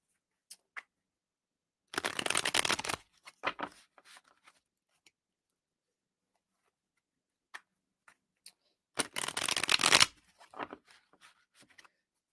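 Two quick bursts of cards being shuffled, separated by a quiet pause with scattered light clicks and taps.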